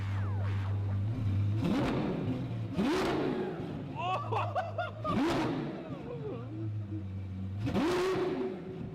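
A Lamborghini engine fires up and revs in a series of rising, throaty bursts over a steady idle rumble, with excited voices and laughter talking over it throughout.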